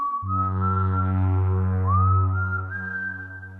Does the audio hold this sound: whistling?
yes